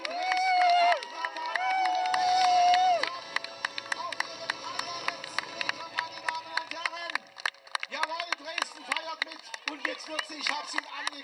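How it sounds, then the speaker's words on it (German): A Dresden crowd applauds and cheers the farewell run of the last Tatra tram, with scattered claps and shouts spread through the scene while a voice talks over them, loudest at the start. "Wo ist der Beifall der Dresdner?"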